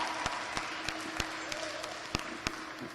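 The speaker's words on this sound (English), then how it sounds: "Let's give a round of applause for everyone who competed and is in the show ring right now" Scattered applause with a few sharp, distinct claps from an audience at a county fair hog show, moderately loud over a murmuring crowd, with a voice faintly present.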